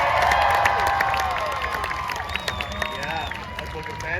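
Spectators at the 177th Perth Fair demolition derby in Perth, Ontario, applauding and cheering for car 296, a dense wash of clapping, whistles and shouting from a large crowd that gradually eases off.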